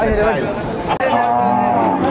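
Heifer calves on a farm give a long, low moo that swells, breaks briefly and resumes, close by, with people chattering in the background.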